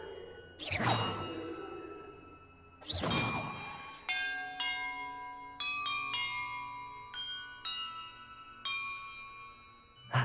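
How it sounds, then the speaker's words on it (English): Bells rung in sequence during a puzzle in the Hogwarts Legacy video game, opening with two whooshing swells, then a run of about seven clear, ringing tones in a steady rhythm, each sustaining and overlapping the next. "Perhaps the map contains clues about the order I'm supposed to ring the bells in."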